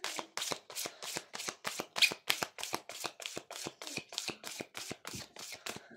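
Oracle feeling cards are shuffled by hand in quick, even riffling bursts, about twenty crisp close-up flutters in a steady rhythm with no talking.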